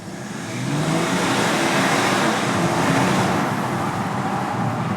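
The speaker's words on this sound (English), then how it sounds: "Yep, that's a 3-litre diesel." A BMW E91 330d with its 3-litre diesel engine heard from inside with the window down while driving through a tunnel, a loud, steady roar of engine and road noise that swells early and holds throughout.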